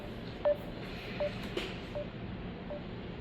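Telephone call tones repeating at a steady pace, about four brief beeps spaced evenly apart, faint over a low background hiss with no voices.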